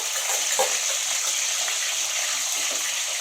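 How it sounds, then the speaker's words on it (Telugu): Chicken pieces fry in oil with a loud, dense, continuous sizzle and hiss, close up and steady, with a brief spatter near the start. "ఇప్పుడైతే చికెన్ ముక్కలు వేద్దాం"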